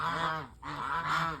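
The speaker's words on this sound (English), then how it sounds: "I love my geese." Farmyard geese honk loudly and close by, two long nasal calls broken by a short gap, with no other sound around them.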